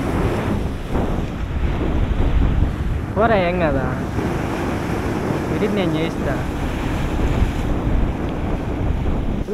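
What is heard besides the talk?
big sea waves at Juvvaladinne fishing harbour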